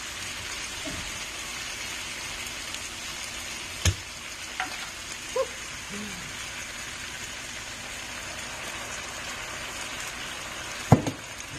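Chinese vinegar hitting sizzling teriyaki tofu chow mein in a pan, a steady faint frying hiss with a few sharp knocks and clinks of utensils, no talking.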